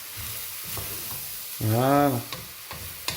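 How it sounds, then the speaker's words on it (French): Shrimp bisque ingredients, with langoustine heads, sauté in oil in a pot, giving a steady close sizzle with stirring scrapes while a voice briefly speaks over the cooking. "On va bien faire revenir tout ça. Je vais rajouter un petit peu plus d'huile."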